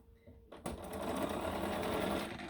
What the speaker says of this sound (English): I'm just going to make sure that my edge here is straight and start sewing.